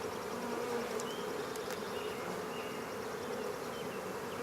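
Honey bees buzz steadily and softly throughout an April hive inspection, a dense even drone from many insects close by, with no talking.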